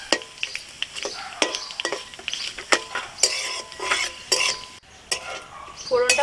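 A spoon scrapes and clinks against a cooking pan as tempering spices, including radhuni, are stirred in hot oil for kochu shak. Rhythmic metallic strokes repeat over a soft sizzle.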